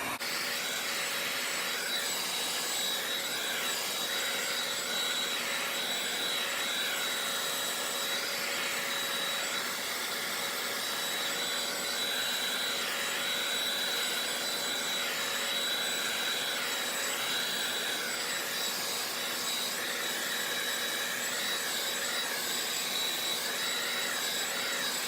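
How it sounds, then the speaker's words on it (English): Hair dryer blowing over wood surfaces to dry clear coat, a steady close whooshing whine with a high tonal hum, continuous and unbroken throughout, no talking. "we're going to take the hair dryer, dry all the surfaces over"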